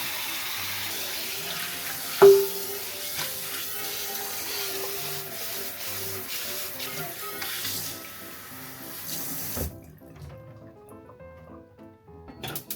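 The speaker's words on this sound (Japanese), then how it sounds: "洗剤は基本的に不要で、お湯とスポンジ、たわしなどで洗います。" Hot water running steadily while an iron frying pan is washed with a sponge and scrubbing brush, with a brief clunk early on and the flow stopping near the end, leaving quiet clatter.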